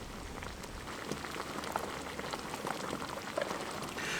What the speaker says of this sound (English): And then I'm going to drain off my pasta